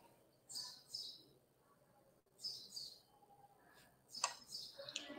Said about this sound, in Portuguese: Barulho de passarinho.